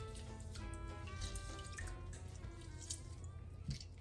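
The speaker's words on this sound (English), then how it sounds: "To my cool water, I'm gonna go ahead and just squeeze some lemon juice." Lemon juice squeezed into a bowl of cool water, with faint drips and a light trickle of liquid, quiet and close.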